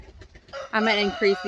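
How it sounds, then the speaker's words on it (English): Rooster crowing among hens in a winter farmyard, a drawn-out harmonic call rising loud and close over softer background clucking. "So we know, Mr. Rooster, we know you're here."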